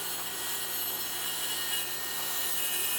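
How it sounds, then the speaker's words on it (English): Grooves are cut into a plywood panel for a bat house, a faint, steady, hissing abrasive cutting sound that runs without a break for a few seconds. "I'll cut all those out so that there's little grooves in the plywood"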